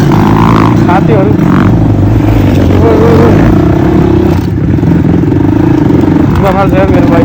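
Motorcycle engine droning steadily through a ride, loud and close with rising and falling revs and some clatter, while a voice talks over it.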